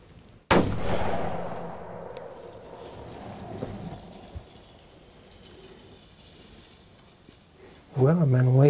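A single sharp rifle shot at a deer during a November hunt, loud and close, followed by a fading echo and a quiet stretch before a voice speaks near the end.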